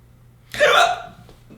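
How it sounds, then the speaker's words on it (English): A single sharp hiccup from a person, sudden and close, followed by a faint breathy tail in an otherwise quiet room. "I have the hiccups right now, so I'm sorry about this."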